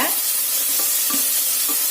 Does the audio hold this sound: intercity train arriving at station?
no